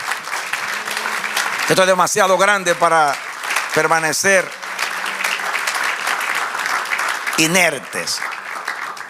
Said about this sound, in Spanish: Sí, den el aplauso así. Celébrelo.